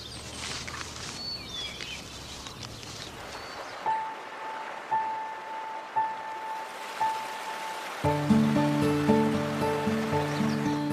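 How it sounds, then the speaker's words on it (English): Steady broadband rush of flowing water from the upper Mississippi River in spring, with tonal music layered over it in the second half. "Water flows again at last."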